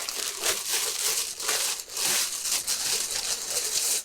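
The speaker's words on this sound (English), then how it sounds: "Let me get it out this plastic." Plastic wrapping crinkled and pulled off the body of a Godox SL-60w video light, a steady close run of crackling and rustling bursts with brief pauses, no talking.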